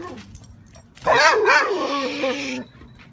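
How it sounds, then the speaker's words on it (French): A dog close by lets out one harsh, drawn-out bark that rolls into a growl, lasting about a second and a half, with quiet around it. "Vous entendez le chien, il est pas très friendly"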